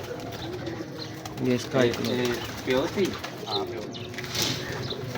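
Old breeder pigeons kept by a fancier coo softly in a loft, low throaty murmurs rising and falling amid a busy background while someone talks over them.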